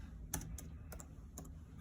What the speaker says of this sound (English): all that typing is happening right in real time as I'm going through and using my keyboard